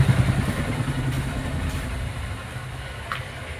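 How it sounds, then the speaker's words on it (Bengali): A motorcycle idles in place with its engine running to auto-lubricate the chain, giving a steady low clattering putter that stays close and even throughout, with no voices. "বাইক এখানে এক জায়গায় চলেই যাচ্ছে।"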